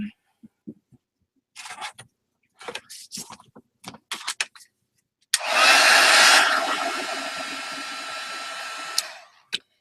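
Hair dryer drying Indian ink on an art journal page switches on after scattered tapping and handling noises, blowing loud and close for about four seconds before cutting off.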